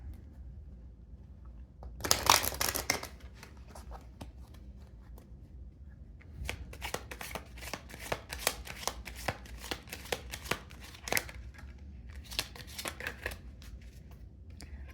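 A tarot deck being shuffled in a loud riffling burst, then irregular soft flicks and taps of cards being handled over a quiet background, close and intermittent.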